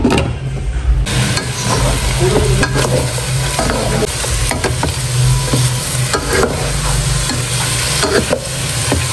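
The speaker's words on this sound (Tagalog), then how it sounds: "Sasangkotsahin ko po muna ito." Ingredients with a little salt being sautéed in a pan for pork sinigang, a loud steady sizzle with scraping stirs and clinks close by, continuous throughout with a low background rumble.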